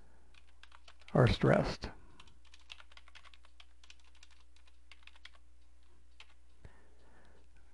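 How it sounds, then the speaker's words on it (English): Light, rapid keystrokes on a computer keyboard typing HTML text, a steady patter of soft clicks following a brief spoken remark, near and fairly quiet over a low hum. "I'm not going to type a whole bunch of stuff here, just enough to give you the idea."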